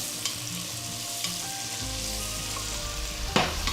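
Two cloves of garlic fry over low heat in a pan while being stirred, a loud, close, steady sizzle with a few sharp scraping clicks, over a faint tonal hum.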